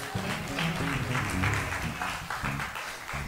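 A church congregation claps together during a sermon, steady mid-level applause with a voice faintly underneath throughout.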